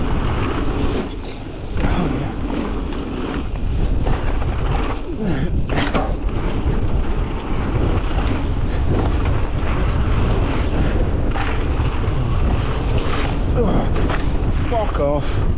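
Strong gusts buffet the microphone on a dry, windy day at Sandwell Valley MTB jumps, a loud, constant roar that swells and rumbles throughout with no break.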